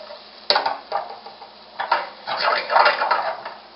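Shrimp tossed with cumin, garlic, paprika and chili powder in a pan gives a run of clattering scrapes and knocks of utensil against cookware, fairly close and uneven, with a sharp clack near the start.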